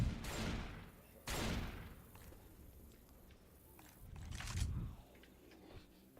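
Shotgun blasts in the zombie shooter Left 4 Dead 2: a few separate bursts, two close together at the start and one later, fairly faint against quiet in-game background noise.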